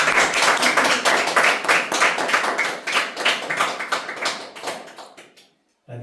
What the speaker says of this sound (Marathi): जोरात टाळी